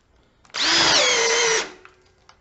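A refurbished Ridgid cordless drill bores with a 1-inch speed bore bit, giving one loud whining burst of about a second that drops slightly in pitch under load, then cuts off abruptly, with no talking.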